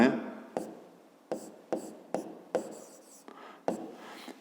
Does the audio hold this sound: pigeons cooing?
no